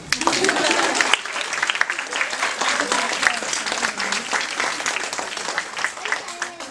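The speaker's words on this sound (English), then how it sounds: "Give me a clap now." Steady applause from a sizable audience at an evening book launch, dense and sustained clapping that continues at an even level from start to finish.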